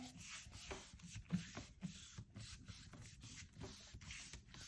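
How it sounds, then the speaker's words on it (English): Quiet, rhythmic rubbing of Hammermill paper against a smooth gel plate, soft repeated scuffing strokes close by. "we're gonna give that a good rub, let it dry"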